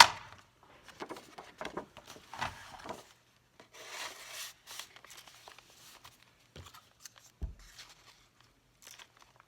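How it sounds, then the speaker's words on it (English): Strips are trimmed off two sides of a handmade steampunk journal, giving a series of faint, intermittent rubbing and cutting scrapes, quiet and close with pauses between strokes. "So let's just trim these little strips off of these two sides."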